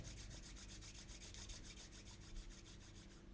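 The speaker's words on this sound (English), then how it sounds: "bring your hands to prayer position at the heart and actually just begin to rub them together" Palms rubbed together steadily in a quiet meditation setting, a continuous close dry swishing with a fast regular back-and-forth rhythm throughout, no voices.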